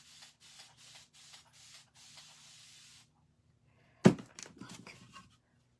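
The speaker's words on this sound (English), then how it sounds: "I'm going to spray some water on it." A hand spray bottle spritzes water onto a furniture transfer, a quick series of soft, short hissing bursts in a steady rhythm, followed by a sharp knock and some rustling handling sounds, all close and quiet.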